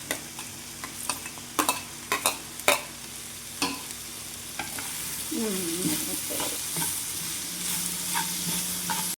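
Corn and chili powder fry and get stirred in a pan, with a run of sharp utensil scrapes and knocks at first, then a steady close sizzle.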